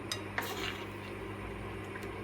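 Spicy stir-fried seafood being scooped from a pan, with a few metal scrapes and clinks of a spatula or ladle against the pan over a quiet background hiss.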